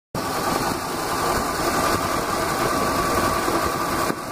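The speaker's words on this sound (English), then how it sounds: "Motor is very quiet, runs very smoothly, no shakes, no jiggles" A 1999 MasterCraft Prostar 205 direct-drive ski boat engine idles smoothly and evenly, a steady low hum that holds at the same level throughout with no one talking.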